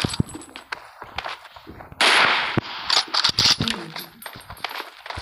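Shotgun fire in the mobile battle-royale game PUBG Mobile, arena mode: a few sharp, loud blasts and metallic clangs clustered mid-clip over game noise, with a voice talking.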